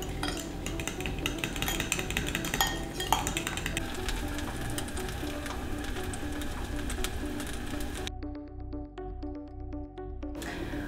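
Whisk clinking and scraping against a bowl as milk is mixed into a dressing for crispy oven-baked chicken wings, a steady close rhythmic stirring with light metallic chinks, softer toward the end.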